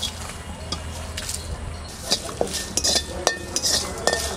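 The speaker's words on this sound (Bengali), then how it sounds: "প্রথমে শুকনো লঙ্কা ভেজে নেব।" Dried red chillies roasting in a dry pan at home, with a run of sharp metallic clinks and scrapes from a spatula against the pan, close and moderately loud, beside a voice.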